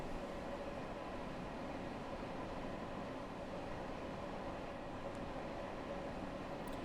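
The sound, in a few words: train running in a train video game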